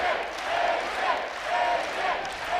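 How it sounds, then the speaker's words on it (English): Wrestling crowd at a Big Ten college dual meet between Ohio State and Nebraska, chanting in rhythmic swells that rise and fall across the arena, loud and steady with no clear single voice. "Crowd chanting AJ."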